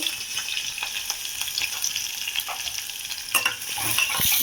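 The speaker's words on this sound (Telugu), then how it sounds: "ఆనియన్స్ వేస్తున్నానండి" Onions frying in a pan for stuffed brinjal curry, a continuous loud sizzle with repeated scraping stirs and a louder hiss toward the end.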